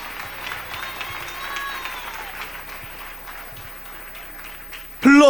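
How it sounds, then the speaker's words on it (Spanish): A church congregation applauds during a pastor's sermon, with sustained clapping under a voice speaking over it, ending in a short loud burst. "Dale ese aplauso al Rey."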